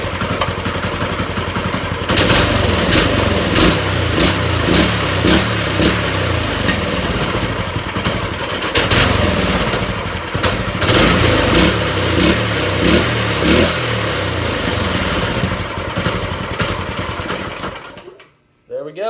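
A swapped engine running loud and close with the throttle connected, a rough steady drone with rhythmic pulsing, before cutting off abruptly near the end.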